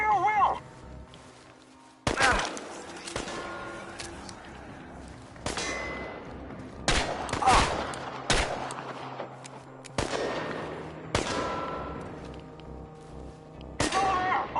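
Gunshots in the video game Chernobylite, sharp loud cracks fired singly and in short bursts at irregular intervals with metallic echoes, mixed with voices talking between shots.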